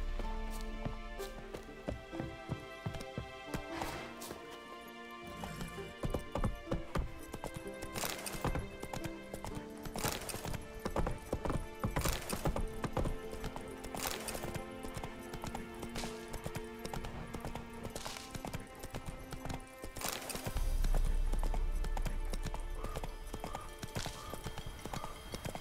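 Horse hooves clip-clop in the video game The Witcher 3, a steady rhythmic trot of hoof beats close by with clattering accents, continuing for nearly half a minute over quiet ambience.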